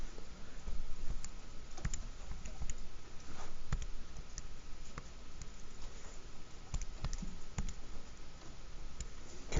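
Buttons pressed on a graphing calculator in a quiet room, a faint run of small plastic clicks tapped in irregular bursts with no speech.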